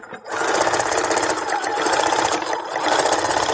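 A sewing machine stitches through Christmas stocking fabric in a fast, steady, close mechanical whir that starts abruptly and runs on without a break.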